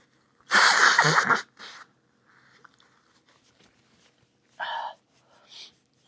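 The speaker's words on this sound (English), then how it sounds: "Sorry, I had to blow my nose." A loud, forceful nose blow up close, followed by a few shorter, quieter snorting blows with sniffles between them.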